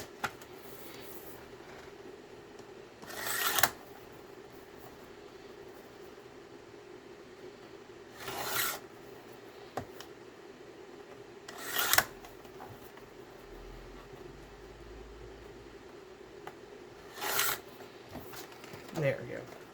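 Journal pages are trimmed with a large paper cutter, giving four or five brief, sharp slicing crunches spaced several seconds apart over a quiet background, with someone talking softly in between.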